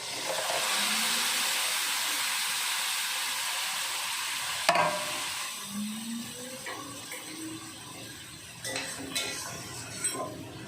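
Lentils (dal) fry in a pan with a bright, steady sizzle that fades midway, followed by scraping stirs and clinks of a utensil against the pan.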